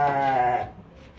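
A black-and-white Cheena goat gives one loud, wavering bleat lasting about half a second up close, then fades into quiet background noise.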